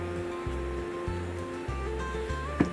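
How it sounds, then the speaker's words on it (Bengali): Fast, muddy river current rushing past in a continuous broad wash, close and steady, with a low tonal hum running underneath. "জলের কি স্রোত যাচ্ছে, আমার তো দেখেই ভয় লাগছে।"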